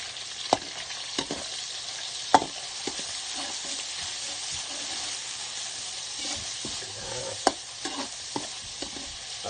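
Vegetables and a little pork are stir-fried for pancit canton in a hot pan, a steady close sizzle with intermittent scraping and clinking as the ingredients are tossed, no voices.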